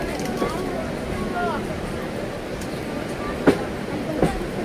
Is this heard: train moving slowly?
yes